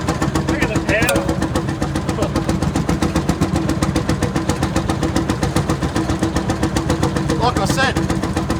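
A vintage tractor at a field day in Western Australia chugs with a fast, even engine beat close by, a few brief squeaky bursts cutting in, while people talk nearby.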